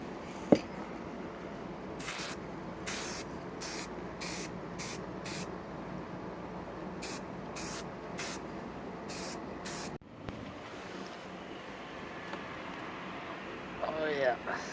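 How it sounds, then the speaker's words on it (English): Several short, evenly spaced bursts of aerosol spray coat a rusty car part in black paint for a track car project, in two groups, quiet over steady background hum. "Now I'll just shoot a quick coat of black on both sides."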